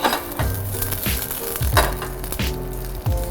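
Shimeji and button mushrooms hitting hot olive oil in a pan set off a steady sizzle, broken by regular knocks and clatters as they are tossed or stirred, close and with no voices.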